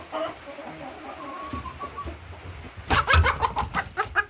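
Hens clucking and shuffling on a small farm as they are caught and loaded into transport crates, with scattered soft clucks at first, then a louder flurry of wing flaps and agitated clucking near the end.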